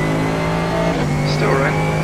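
Mercedes AMG GT3 race car at Indianapolis Road in iRacing, a loud steady engine drone holding and rising slightly as it accelerates, with someone talking over it.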